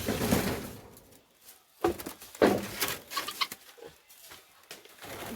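Guineafowl kept in a cage on a farm near Guwahati give short, irregular clucking and chattering calls, close by and moderately loud, with brief quiet gaps between bursts.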